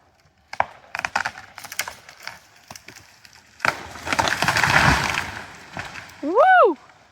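A huge tree gives a run of sharp wooden cracks and splintering pops, then a heavy rushing crash as it falls, followed by a loud cheering voice.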